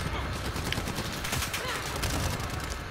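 Rapid gunfire in Call of Duty Modern Warfare, a continuous fusillade of loud crackling shots throughout, with voices faintly under it.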